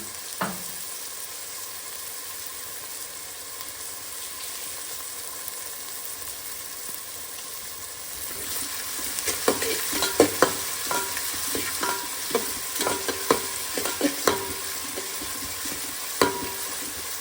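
Salted onions fry in a pan for a chicken gravy, a steady low sizzle that grows busier partway through, joined by irregular close stirring scrapes and taps.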